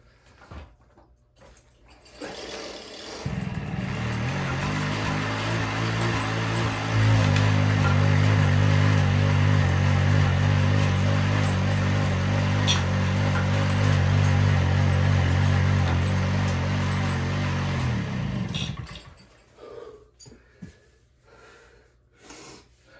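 A 1978 Honda Hobbit moped engine with a stuck, fuel-leaking carburetor, primed with fuel in the cylinder, sputters into a loud, steady running drone for about fifteen seconds before cutting out.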